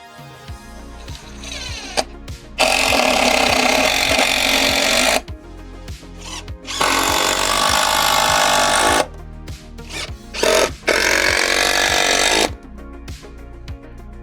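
A power drill drives screws into pallet wood while a Pittsburgh portable tire changer is assembled, with three long, loud whirring runs and short silences between them.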